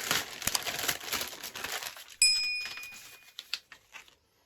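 A large plastic parcel torn open, sharp crinkling and rustling of plastic wrap up close, a tearing rip midway, then a few light taps and clicks as the handling quiets down.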